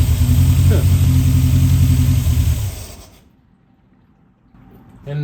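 An engine idles loudly and steadily with a low hum, then is switched off and dies away within a second or two without running on, leaving near silence before a faint noise returns.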